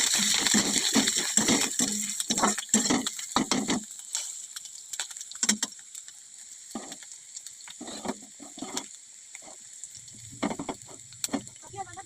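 Cumin, ginger and green chilli sizzle and crackle in hot oil in a wok, with dense spattering bursts early that thin into scattered pops and quieter stirring later, close and alone.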